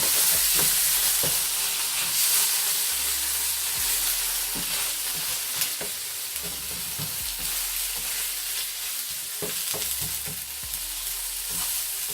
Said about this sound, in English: just going to cook that off for a second while the pan cools down